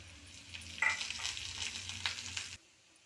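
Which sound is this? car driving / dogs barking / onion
onion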